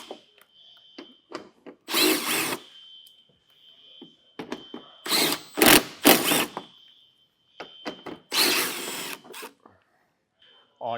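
Power tool on a 2024 Jeep Grand Cherokee removing 10mm bolts along the back, heard in several short, loud whirring bursts separated by pauses, with someone talking in between.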